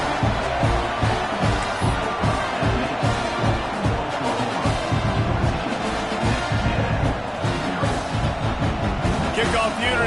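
A football stadium crowd roars steadily after a touchdown and extra point in a game against Texas A&M, a dense, continuous wash of cheering and shouting filling the space, loud and sustained throughout.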